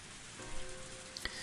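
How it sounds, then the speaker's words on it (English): Torrential rain pours onto a car roof as a dense, steady hiss of drops, with a few sharper individual patters near the end and no voices. "The only sounds to break the silence were the percussion of the rain on the roof"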